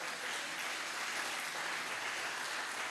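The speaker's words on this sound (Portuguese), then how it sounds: "Então vamos aplaudir o Senhor," A church congregation applauding during a sermon, a dense, even roar of clapping that holds steady without pause, moderately loud and diffuse.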